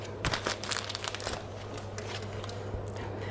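Plastic piping bags rustle and crinkle close by as their tips are snipped off, a run of crisp crackling handling sounds over a steady low hum.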